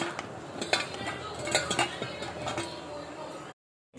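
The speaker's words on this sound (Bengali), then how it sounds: "আমি ভালো করে সয়াবিনটাকে মাখিয়ে নেব, লবণ, গোলমরিচের গুঁড়ো আর কর্নফ্লাওয়ার।" Soya chunks are mixed by hand in a bowl with salt, pepper powder and cornflour, making irregular clinks, scrapes and knocks against the dish before stopping abruptly.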